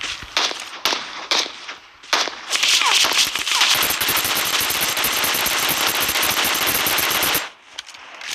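Loud automatic gunfire in the mobile battle royale game PUBG Mobile: a few short bursts, then a sustained rapid volley lasting several seconds before cutting off, heard close and dominant.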